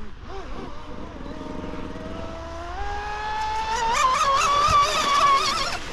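A Sonicwake 36-inch 8S RC boat runs at top speed, its high electric whine climbing steadily in pitch and loudness as it races toward the listener, ending in a sharp, wavering scream.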